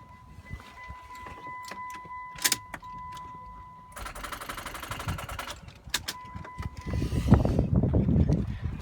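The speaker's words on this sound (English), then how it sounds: "Now I'm going to go try cranking the vehicle again." A car engine cranking slowly on a weak battery, heard as a sluggish mechanical churn building near the end after door and key clicks and a steady warning chime, close and moderately loud, no talking.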